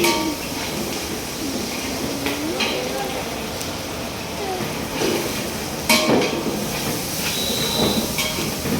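Chicken curry simmering in a large pot while catering for about 50 people, giving a steady hissing bubble with occasional utensil clinks, and voices talk over it.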